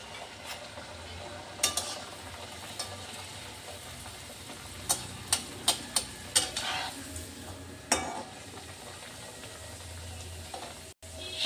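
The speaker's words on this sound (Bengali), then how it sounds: "আরেকটি আমি ভাজি।" Green pea kachori fry in a pan of oil with a soft, steady sizzle, while scattered sharp clinks and taps of a utensil against the pan ring out close by.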